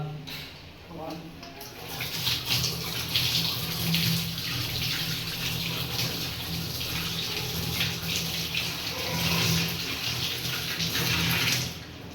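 Water runs continuously from a tap into a sink as biryani ingredients are rinsed clean, a steady close hiss that swells and eases, with a few faint clinks beneath it.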